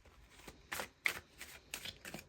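Tarot cards shuffled close by in a quiet room: a steady run of soft riffling bursts, one after another, with no talking.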